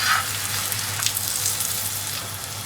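Mooli paratha frying on a hot tawa over full heat just after flipping, giving a steady, even sizzle that runs the whole time with a low hum underneath and no talking.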